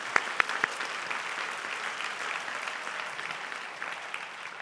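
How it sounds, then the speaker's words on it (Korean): A church congregation at a Korean university worship service breaks into applause of encouragement, starting with a few sharp, distinct claps before settling into a softer, steady patter of many hands at moderate distance. "격려와 사랑의 박수를 보내주었으면 좋겠어요"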